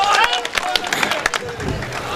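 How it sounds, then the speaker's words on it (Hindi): A crowd at an Urdu mushaira in Mumbra greets poet Lata Haya at the microphone with dense, steady applause and scattered cheers, loud and close, with voices mixed in throughout. "ज़ोरदार तालियों से उनका इस्तकबाल होना चाहिए"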